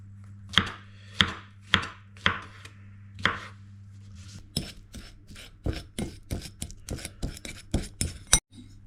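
A knife chops through a single mushroom on a board in a steady series of crisp, close taps, slow and evenly spaced at first, then quicker and denser, with a faint steady hum underneath.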